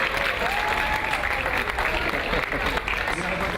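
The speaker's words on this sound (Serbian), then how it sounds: "Jedan veliki aplauz" A crowd applauds loudly and continuously at an outdoor prize handover for a bank card giveaway, dense clapping filling the whole stretch with some voices mixed underneath.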